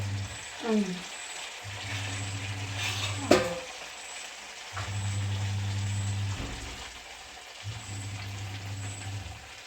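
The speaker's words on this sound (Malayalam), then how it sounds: "ഇനി നമ്മൾ സെക്കൻഡ് റൗണ്ട് ഉണ്ണിയപ്പം ഒഴിക്കുവാണ്." Unniyappam batter sizzles in the hot oil of an appam pan, a soft, steady frying hiss with a low background hum that cuts in and out and a few faint clinks, with no talking.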